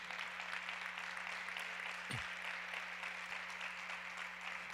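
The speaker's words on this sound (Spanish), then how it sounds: "damos un aplauso por eso." Church congregation applauding during a Christian sermon, a steady broad wash of clapping held at even level throughout with one brief low thump midway.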